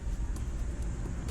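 A Ford Mustang GT350 engine fitted with Archetype Racing oil balancing lines starts and settles into a loud, steady, close rumble. The low roar runs continuously, with no talk over it.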